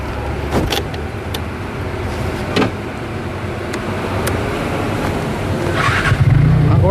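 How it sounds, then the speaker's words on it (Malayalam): A car engine runs steadily close by, with clicks and knocks from handling the vehicle and a rising rev near the end as it pulls away, no talking over it. "ഞാൻ ഒന്ന് എടുത്ത് നോക്കട്ടെ വണ്ടി."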